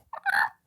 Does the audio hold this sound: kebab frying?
no